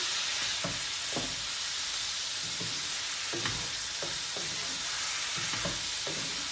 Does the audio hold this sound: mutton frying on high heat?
yes